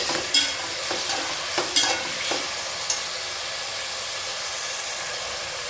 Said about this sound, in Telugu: అలాగే నెక్స్ట్ టమాటా ముక్కలు కూడా వేసుకుందామండి ఉల్లిపాయ టమాటా బాగా మగ్గాలి